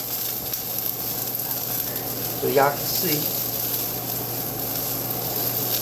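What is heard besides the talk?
steak sizzling in a pan with olive oil and butter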